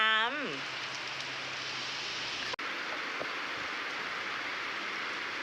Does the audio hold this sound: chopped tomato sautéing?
no